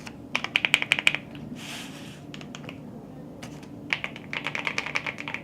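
A modded mechanical keyboard held in the hand clacks in quick bursts of keystrokes, then pauses before another longer run of clicky typing, close and fairly quiet.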